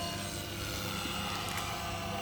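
A helicopter drone hovers overhead outdoors in Sozopol, Greece, producing a faint, steady, whirring rotor buzz that stays constant throughout with no speech.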